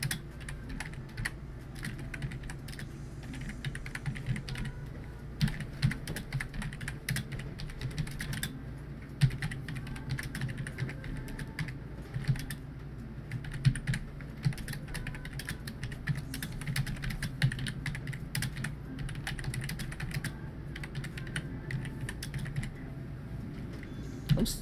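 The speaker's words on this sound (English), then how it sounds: "I'm just typing all sorts of wrong, aren't I?" Steady computer keyboard typing runs throughout, with dense, irregular clattering keystrokes close to the mic and no talk over it.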